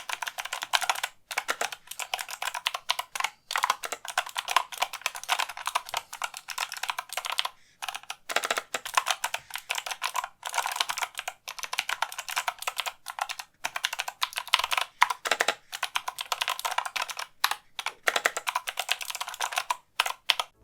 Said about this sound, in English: They also sound like this.